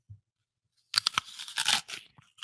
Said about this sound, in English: I'm gonna eat this apple. So if it gets too crunchy or too loud, it's a honey crisp